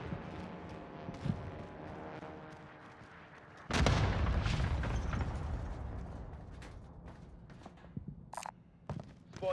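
A bombing run in Call of Duty Warzone: a heavy, sustained explosion hits suddenly and rumbles on loudly for several seconds, with scattered shots and small bursts before and after it.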